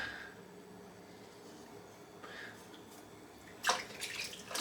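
Tap water runs into a sink while soap is rinsed off during a head and face shave. A soft, steady trickle turns to louder splashing near the end, with no talk over it.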